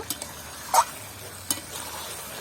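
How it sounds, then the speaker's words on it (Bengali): Fried kohlrabi stir-fried in a pan for chicken curry: a faint, low sizzle with a few sharp clicks of a spatula against the pan. It is quiet and close, and no one speaks. "ভেজে রাখা ওলকপিগুলো দিয়ে দিচ্ছি। এগুলো দিয়ে আবারও একটু ভালো করে কষিয়ে নেব।"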